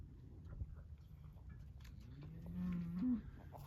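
Cattle lowing in a pasture barn area, a loud drawn-out moo rising near the end over steady low rumbling and faint shuffling, with herd animals standing and chewing cud nearby.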